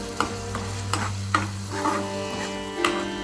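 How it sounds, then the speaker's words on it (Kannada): Tomato masala for a prawn fry bubbles and sizzles steadily in a pan, punctuated by several sharp scrapes and knocks of stirring, with no voices. "ಇವಾಗ ಕುದೀತಿದೆ"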